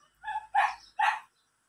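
Dog barking in the video game Kitty Cat Simulator: three quick, fairly close barks in a short burst, alone with no talk.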